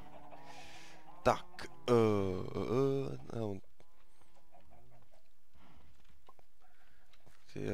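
A Minecraft chicken clucks in short, fairly close bursts at the start, followed by a longer stretch of Czech speech with quieter game sounds underneath.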